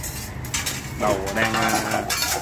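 Metal motorcycle carburetor parts from a Yamaha Exciter 135 being cleaned, with clinking, scraping and rattling of small components close by, continuous and busy, with a faint voice in the background.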